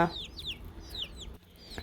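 Hens and roosters on a small farm cluck in a few quick rising calls near the listener, with faint background murmur between.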